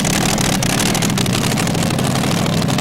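A pulling tractor's engine roars steadily and loudly at a tractor pulling contest, a continuous dense mechanical drone with no pauses.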